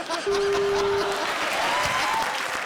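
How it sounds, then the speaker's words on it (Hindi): Studio audience applause on a Comedy Circus comedy show stage, a dense, steady wash of many hands clapping that holds throughout, with a thin sustained tone running beneath early on. "जोरदार तालियां प्रिंस के लिए"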